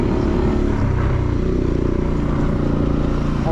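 A motorcycle engine with its idle turned up, running close and loud as a steady, even drone throughout.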